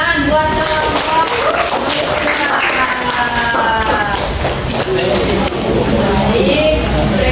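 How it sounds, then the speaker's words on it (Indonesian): Students in a classroom applaud a student group, a brisk crowd of claps running continuously under overlapping voices and cheering. "Tepuk tangan buat kelompok."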